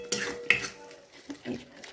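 A lid clanks onto a metal cooking pot after a stir of a prawn and pointed gourd curry, giving a few sharp clinks and scrapes with short pauses between them, close and fairly loud.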